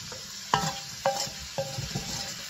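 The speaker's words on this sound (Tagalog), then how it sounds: "Halo na po natin ang ating pork." Pork frying in a pan for ampalaya con carne is stirred in three or four distinct scraping strokes over a steady low sizzle, close and fairly quiet, with no one talking.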